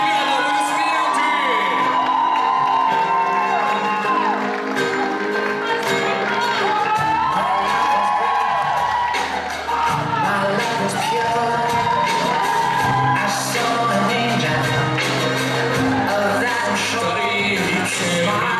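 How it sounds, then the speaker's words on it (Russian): A crowd at a university Miss and Mister award ceremony cheers and whoops over a loud announcer and music. The noise rises and falls steadily for the whole stretch. "Пошумим, пошумим, дали поддержку, ребята, аплодисменты!"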